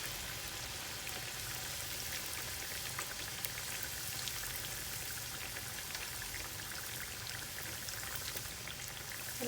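Cashew nuts frying in oil in a pan, a steady dense sizzle and crackle that runs evenly throughout at moderate loudness, with no talking.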